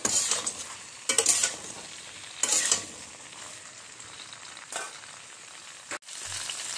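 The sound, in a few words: ridge gourd being stirred and fried with nigella seeds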